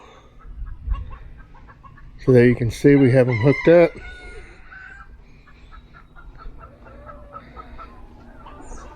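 Chickens on a farm clucking and squawking nearby, with a loud burst of rising calls lasting about a second and a half, then softer scattered clucks, while someone speaks briefly over them.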